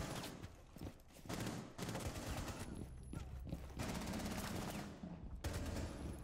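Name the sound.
Uzi gunfire in video game Rainbow Six Siege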